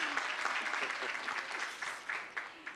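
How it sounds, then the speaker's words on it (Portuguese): An audience at an international symposium on technology and functional recovery claps in a brief, moderately faint round with uneven bursts of clapping. "Palmas para o senhor Fernando."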